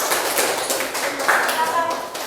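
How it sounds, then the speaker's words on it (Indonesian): A school class claps for a student group during a lesson, scattered hand claps mixed with the murmur of voices talking over them. "Tepuk tangan untuk kelompok 2"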